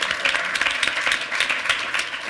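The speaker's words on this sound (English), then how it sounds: "I'd like everyone to give a round of applause to our panelists" Audience applause for conference panelists at a discussion event, a dense, lively burst of many hands clapping close by, continuous throughout with slight swells in intensity.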